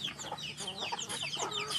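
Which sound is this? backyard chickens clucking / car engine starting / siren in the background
backyard chickens clucking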